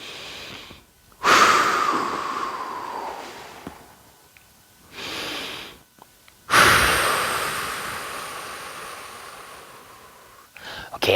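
Deep, drawn-out breaths during a calf stretch in a home workout: two long, loud exhales, each lasting a few seconds, with a quieter inhale between them, close to the microphone.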